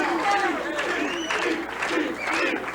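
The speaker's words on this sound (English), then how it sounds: "the crowd plays no favorites as they're chanting Steve" A crowd at a 1997 professional bowling championship chants and applauds steadily, a dense roar of voices that rises and falls rhythmically throughout.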